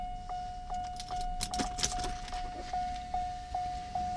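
Keys jangling and clicking in the ignition of a Mercedes 600SL, several close metallic rattles over a steady electronic tone and faint interior hum.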